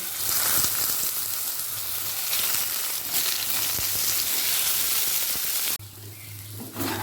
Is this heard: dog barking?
no